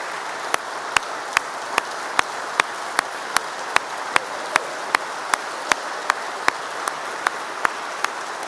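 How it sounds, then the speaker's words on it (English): A graduation ceremony audience applauds with a steady wash of clapping, marked by regular sharp, loud claps that stand out at an even beat above the crowd throughout. "Please give each one of those three one more round of applause."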